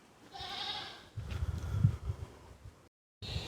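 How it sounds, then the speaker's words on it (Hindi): Goats on a goat farm bleat close by, a wavering cry followed by shuffling and rustling, then a short gap and the start of another bleat. "अभी ये बकरी को लाया हूँ मैं, 3 दिन हो गया।"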